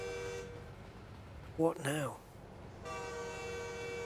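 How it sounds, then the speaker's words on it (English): A train horn sounds in American Truck Simulator, a steady tonal blast that cuts off as someone briefly speaks, then returns and holds to the end. "Oh, it's a train."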